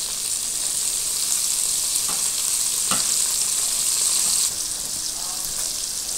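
Chopped onion, green chili and garlic hitting hot oil in a pan, a steady loud sizzle with faint stirring scrapes, close and continuous throughout.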